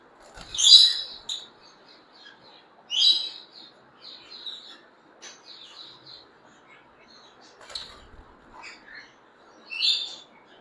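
Pale fallow lovebird breeder pairs in cages give sharp, high chirps and squeaky calls in irregular bursts, some loud and close, with fainter twitters between them.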